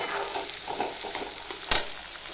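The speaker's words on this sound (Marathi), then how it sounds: "आता आपण त्याच्यात टमाटर टाकू टमाटर चांगलं परतून घ्यायचं" Tomatoes frying in hot oil while being stirred, a steady close sizzle with soft scraping strokes and one sharper clack near the end.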